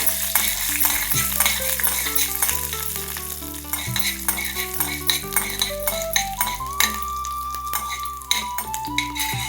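Urad dal crackles and sizzles in hot ghee with frequent spoon scrapes and clinks against the pan, a busy close-up frying sound.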